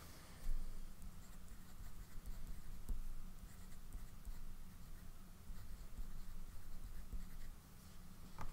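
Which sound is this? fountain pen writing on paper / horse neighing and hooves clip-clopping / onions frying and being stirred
fountain pen writing on paper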